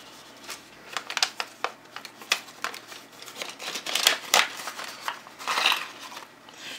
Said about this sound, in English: So let's see what's inside.